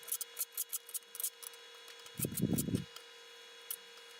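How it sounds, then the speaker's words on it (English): Knife chopping fresh thyme into strips for an eggplant and soba noodle dish, a quick run of about ten light, crisp cuts followed by a brief duller rustle of herbs being scraped or moved on the board. "we start cutting the thyme into strips"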